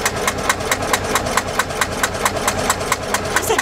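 A Sabb 10hp marine engine on a restored boat idles slowly, close and steady, with an even rhythm of soft knocking pulses about three per second and no voices.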